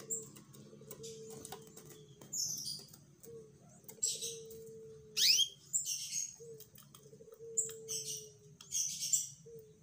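Canary chirps and short trills in a breeding setting, with bright bursts of song broken by pauses, close and moderately loud over a steady low background hum and a few soft coos.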